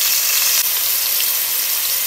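Chopped onions sautéing in about a cup of hot oil with ginger and garlic, a dense, loud, steady sizzle and crackle heard close up for a couple of seconds.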